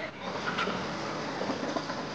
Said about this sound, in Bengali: ট্রেন আমার সমস্ত প্রতীক্ষার অবসান ঘটিয়ে এগিয়ে যেতে থাকে আমার গন্তব্যের দিকে।